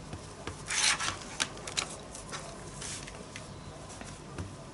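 Fabric crayon rubbed back and forth onto fabric, a soft, close scratchy rasping in uneven strokes, faint and steady throughout.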